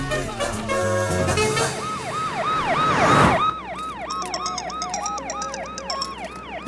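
Wailing ambulance siren in a Hindi-dubbed Telugu comedy film, rising and falling in a steady repeating cycle, loud and close, emerging from busy film music and noise that cuts out after about three seconds, leaving the siren alone.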